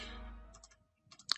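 A few quick keystrokes on a computer keyboard while typing Python code, faint and close, with a short burst of clicks near the end.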